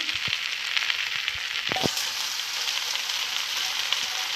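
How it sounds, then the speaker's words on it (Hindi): Green onion and eggs fry in a pan with restaurant-style vegetable fried rice, giving a steady bright hiss of sizzling oil with a few soft clacks from stirring, close and continuous, with no one speaking. "इसमें मैं अंदर ग्रीन अनियन और एग्स डालूंगी।"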